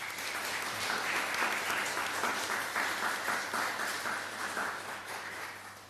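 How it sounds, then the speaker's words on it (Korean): A Sunday church congregation applauds together in thanks, sustained mid-level clapping with a gentle rise and fall and no talk over it. "감사한 마음을 담아서 우리 박수하겠습니다."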